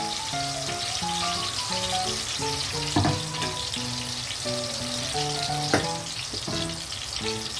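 Ground masala paste fries in hot oil for fish curry with a continuous, close sizzle and occasional sharper spatters, while a faint tonal melody runs underneath.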